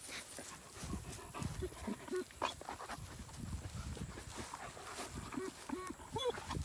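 Dogs barking at a distance over a noisy outdoor background, with footsteps and faint movement throughout.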